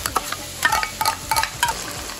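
Ginger garlic paste frying in a pan for spicy chicken kala bhuna, with sharp close sizzling bursts and stirring scrapes in an uneven rhythm over a constant hiss.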